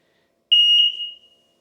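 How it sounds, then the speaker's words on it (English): An Arctic Hayes wireless interlinked smoke alarm gives one clear, high-pitched beep lasting about half a second, then a fading tail, with silence before and after. "We can now see that that's connected and it beeped to confirm."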